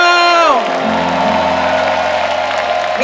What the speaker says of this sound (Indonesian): Tepuk tangan buat Agnes Mau.